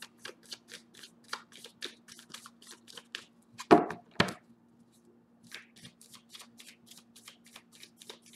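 Tarot cards are shuffled by hand in a quiet room, with repeated quick riffling flicks in bursts and two sharper louder snaps near the middle, with no talking.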